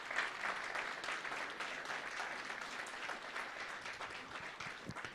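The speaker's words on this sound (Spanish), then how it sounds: "Nos vamos a dar una vez más, por favor, fuertes aplausos." A church congregation at a special service applauds after a choir performance, with steady, dense clapping sustained throughout at a moderate distance.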